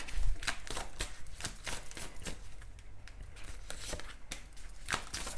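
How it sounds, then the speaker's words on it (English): Cards being shuffled, a rapid series of crisp riffling clicks and snaps repeating close by, with no voices. "Why is the card shuffling like this?"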